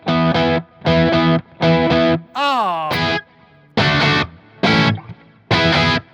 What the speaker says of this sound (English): I went from this heavy distortion type thing to this very mid-range focus type of thing.